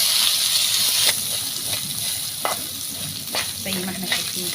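Drained rice tipped into vermicelli browned in a pot for Egyptian koshari, giving a steady close frying sizzle and hiss with a few scraping stirs throughout.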